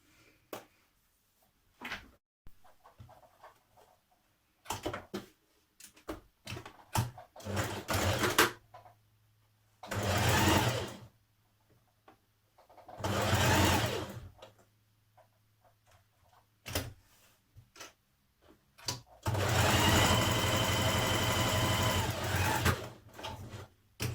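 Sewing machine stitching the facing and collar of a Simplicity 8218 jacket, several short whirring bursts separated by quiet pauses, building to a longer, louder run near the end.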